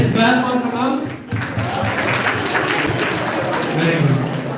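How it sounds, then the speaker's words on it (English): A class claps for a girl during a resume writing workshop, the applause a dense, continuous patter of many hands, with a voice talking over the start before the clapping fills in. "Let's clap for the girl."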